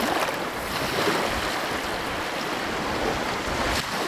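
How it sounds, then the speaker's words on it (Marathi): Sea waves at Velneshwar Beach in Konkan, India, wash continuously onto the shore in a broad, steady roar, with no voices and only slight swells in loudness. "सकाळी जाग आली तीच समुद्राच्या खळाळत्या लाटांच्या आवाजाने"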